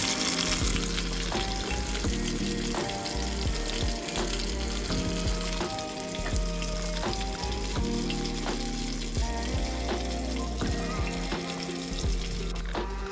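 Crappie and bass fillets sizzle and crackle steadily in hot oil at a roadside fish fry, a dense continuous frying hiss dotted with sharp pops, close and loud throughout.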